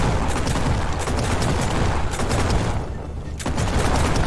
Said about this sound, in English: I'm just gonna spam grenades in that direction